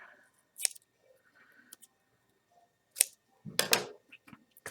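Scissors snip paper for a 3D paper turkey craft, a few brief crisp cuts scattered among quiet pauses, close up with no speech.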